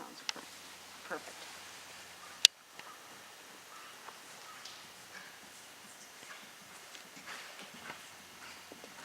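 A horse moves through a canter warm-up in a riding lesson, with soft, quiet hoof clip-clops at a steady rhythm at some distance, one sharp knock partway through and low voices intermittently in the background.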